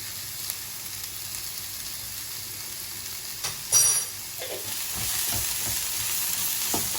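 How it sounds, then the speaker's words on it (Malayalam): Broccoli sautéing uncovered in an open pan over a medium flame, a steady soft sizzle with a few brief stirring scrapes and clinks midway, no voices. "ഇതിനെ ഞാൻ തുറന്നു വെച്ചും കൊണ്ട് ഒരു മീഡിയം ഫ്ലെയിമിൽ നന്നായിട്ട് ഇതിനൊന്ന് വഴറ്റിയെടുക്കുകയാണ്"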